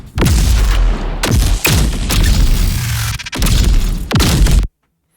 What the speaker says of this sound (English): If I isolate the projectile and the shots, you can hear how that sounds.